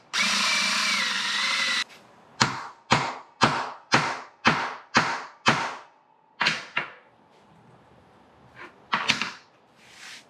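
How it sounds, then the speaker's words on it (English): A power drill whines steadily, then cuts off into a series of short repeated bursts, about eight quick drilling pulses, followed by a few more after a pause, drilling out holes in a metal 1928-1934 Ford steering link. "Drill all them out."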